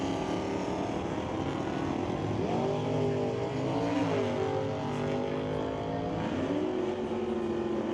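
Stock drag race cars, among them an automatic Q stock Impala ragtop, roar down the strip at an NHRA Northwest National Open race, engines climbing and shifting in pitch as they pass, loud and continuous.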